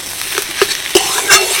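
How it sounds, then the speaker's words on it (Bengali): Potato being mixed with spices in a pan before onion snacks are made, with a few distinct scraping strokes of a spoon over a soft sizzle. The sound is close and loud, and there is no speech. "এবার আলুটাকে ভালো করে মশলার সাথে মিশিয়ে নিচ্ছি"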